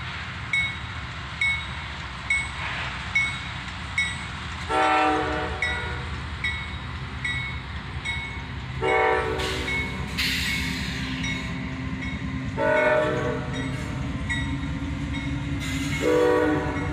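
A CSX freight train hauled by a pair of AC44CW diesel locomotives rumbles steadily past on a cold January day, its horn sounding in several long, loud blasts over the rolling clatter of wagons.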